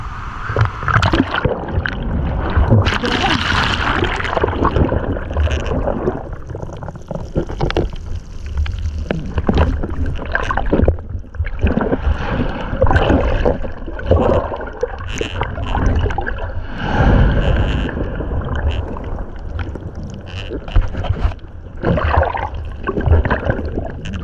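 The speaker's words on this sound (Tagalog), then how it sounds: "Tumitilapon tayo pag tinatamaan ng alon." Waves repeatedly slapping and sloshing against a small boat at sea, loud and close with irregular splashes and rushing water throughout.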